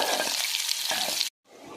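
Onions hit hot oil in a pan for Punjabi kadhi pakora, a loud close sizzle with stirring scrapes, broken by a brief silent gap before the frying resumes.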